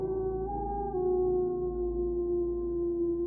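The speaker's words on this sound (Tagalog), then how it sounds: "malakas na ungol ng aso" A dog's long, sustained howl holds steady and drawn-out over a low continuous hum, with no voices around it.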